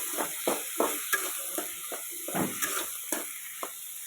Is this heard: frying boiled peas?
yes